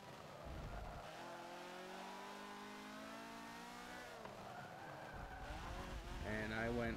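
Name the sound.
race car skidding sideways under braking, Forza 7 video game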